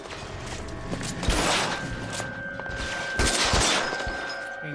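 Gunfire in the L.A. Noire Remastered shootout comes as a rapid fusillade of sharp shots with mechanical clicks and rattles, loud and close over a busy background, without talking.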